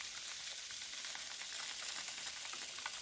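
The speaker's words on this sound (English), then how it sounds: "And there's the dripping." A coffee maker running its cleaning cycle gives off a steady, close hissing sizzle with faint irregular drips and crackles for the whole stretch.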